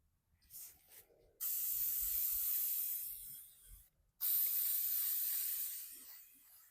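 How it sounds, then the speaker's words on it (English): Shellac sprayed onto raw and stained wood from a can, two sustained close hissing bursts of a few seconds each with a brief gap between, faint handling noises before. "I'm going to spray a little bit of shellac on these just to help my milk paint stick a little bit better"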